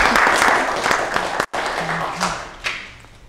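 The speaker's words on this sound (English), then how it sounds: "And you can clap for that." A church congregation claps at a Sunday Episcopal service, a dense burst of many hands that fades out over a few seconds, with voices murmuring underneath.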